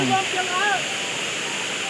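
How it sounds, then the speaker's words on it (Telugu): Water flowing out of a pond toward farm fields rushes steadily in a loud, continuous roar close by, with a few brief voice sounds at the start. "ఇక్కడ నుంచి వాటర్ ఇలా వెళ్తుంది"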